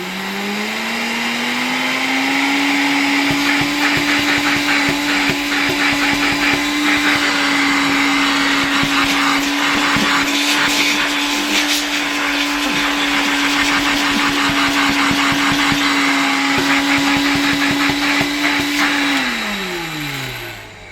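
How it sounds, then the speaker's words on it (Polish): Vintage 1970 Zelmer 01 vacuum cleaner motor spins up with a rising whine, holds a loud steady hum and whistle with power regulated, then winds down at the end. "O, tutaj mogę fajnie regulować mocą odkurzacza."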